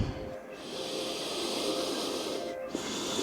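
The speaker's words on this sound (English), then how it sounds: "Take 3 deep breaths." Slow, deep breathing in a yoga sleeping pigeon stretch: a long, soft airy breath that swells and fades, with a brief pause and the start of another inhale, close to the mic over faint room noise.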